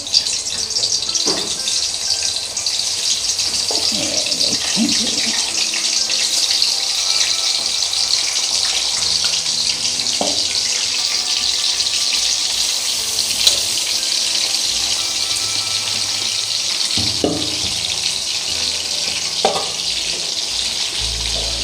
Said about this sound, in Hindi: ये देखें जी, ये फ्राई हो रही है।